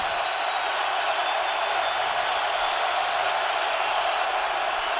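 Crowd in a football stadium during a Rams at Seahawks NFL game, a dense, steady roar with no breaks, loud and uniform throughout, with faint talk underneath.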